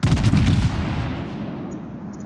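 Naval gunfire from warships in an online naval battle game, a single heavy booming artillery blast up close that dies away into a fading rumble.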